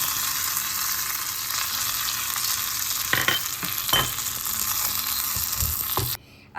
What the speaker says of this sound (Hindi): राई टरक जाए उसके बाद इसमें करी पत्ते डालने हैं।